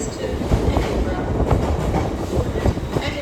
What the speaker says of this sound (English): The next train to arrive at platform 2 will be 1611 LADR Zuma service to Edinburgh.